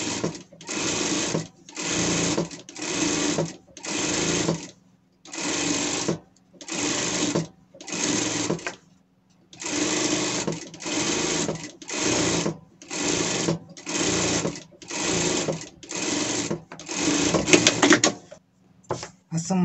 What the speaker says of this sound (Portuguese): Passamos uma costura ao redor, ficou assim